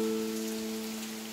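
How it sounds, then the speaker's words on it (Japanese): Heavy summer rain falls in a garden, making a steady, moderately soft hiss with a low, constant hum underneath. "先日に続き、結構強い雨ですね。"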